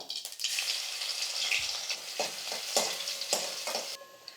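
Crushed garlic cloves fry in hot oil with mustard seeds, giving a loud, steady sizzle with a few stirring scrapes and sputters, cutting off abruptly near the end; nobody speaks.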